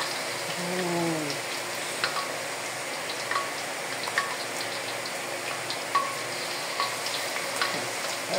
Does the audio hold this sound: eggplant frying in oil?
yes